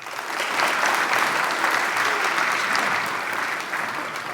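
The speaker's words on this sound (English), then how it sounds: "we need a little more applause than that" Audience applause fills a credit union's annual meeting hall, a steady wash of many hands clapping at full strength for about four seconds before tapering slightly.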